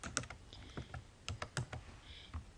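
Typing on a computer keyboard, with soft irregular key clicks in a short quiet burst, close by and alone.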